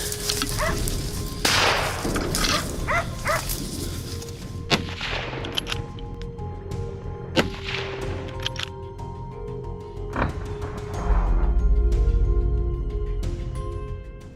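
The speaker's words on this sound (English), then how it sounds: "I immediately release the dogs to track it, charging hard through thick thickets." Hunting dogs on a wild hog chase through thick Alabama brush: loud sharp reports and barking bursts over rustling movement, with a heavy rumbling stretch toward the end.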